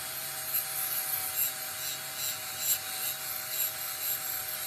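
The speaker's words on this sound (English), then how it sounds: "Got the Dremel switcher on as usual." A Dremel rotary tool sanding a 1968–74 Dinky die-cast Jensen FF model, a continuous close whirring rasp with slight rhythmic surges of contact, heard alone.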